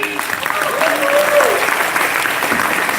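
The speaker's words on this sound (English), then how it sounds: "We have a huge round of applause for Shri." Opening-night crowd at a film festival bursts into a sustained round of applause, dense steady clapping filling the hall for the whole stretch with a slight swell midway.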